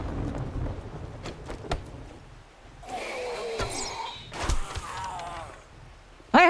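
Thunder rumbles and cracks through a video game thunderstorm during a horde night, with broadband rain-like noise and several sharp bursts rising over a steady background, all at moderate loudness.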